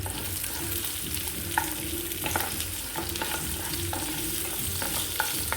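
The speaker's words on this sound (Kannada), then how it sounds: "ಆನಿಯನ್ನ ಸ್ವಲ್ಪ ಫ್ರೈ ಮಾಡ್ಕೊಳ್ಬೇಕು ಆಯಿಲಲ್ಲೇ" Chopped onion fries in hot oil with cinnamon for a chicken curry, a continuous loud sizzle with occasional light spatula scrapes and taps against the pan, close up and without talk.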